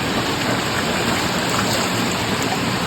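A mountain stream flows in a steady, full rush of water close by, continuous and fairly loud throughout with no voices over it.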